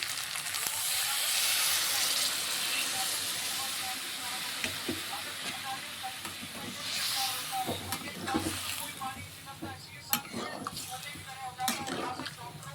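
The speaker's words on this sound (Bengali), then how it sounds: "তো কষানো হয়ে গেছে, আমি এখন অল্প জল দিয়ে দিচ্ছি।" Water poured into a hot pan of chicken curry gives a loud hiss and sizzle that settles into steady bubbling and spitting, with occasional clinks of a utensil and a voice talking over it.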